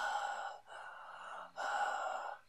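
The Witch from Left 4 Dead 2 breathing: three long, ragged gasping breaths with brief pauses between them. The sound is fairly close and heard alone.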